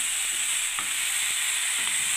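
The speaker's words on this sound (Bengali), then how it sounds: "এবার আমি নাড়তে থাকবো" Vegetables with carrot and beetroot stirred in a hot pan, a steady sizzle and hiss of frying running throughout, with a few soft utensil scrapes and clicks near at hand.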